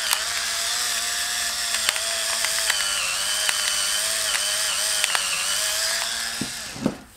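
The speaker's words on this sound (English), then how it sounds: "Look how much pepper we ground out in such a short amount of time." An ONECAM Gravity electric pepper grinder grinding pepper gives off a continuous high motorized whir, dotted with small ratcheting clicks, running evenly before winding down near the end.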